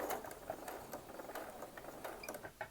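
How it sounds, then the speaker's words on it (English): A domestic sewing machine stitches through quilt block fabric with some bulk, running at a slow, steady, careful pace with a faint mechanical chatter, quiet and close. "let's put this gently under the sewing machine"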